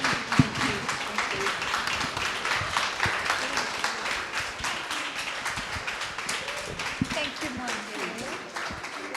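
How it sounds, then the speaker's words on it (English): An audience at a business branding event applauds, a steady wash of clapping from a room full of people lasting several seconds, with voices mixed into the noise. "give them a round of applause"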